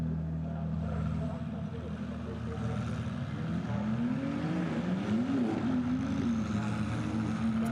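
Ferrari 296 GTB race cars pulling away together at the start of a race at Autopolis, a steady dense engine roar with one rising and falling pitch sweep, continuous throughout, with commentary voices faintly underneath.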